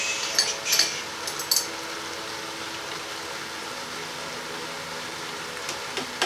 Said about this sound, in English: It gives me an opportunity to just stir this.